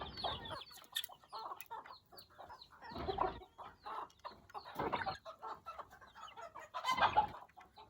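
A desi hen clucks repeatedly while pecking at biryani, short throaty bursts in an irregular rhythm, close and fairly quiet, with pauses between clusters.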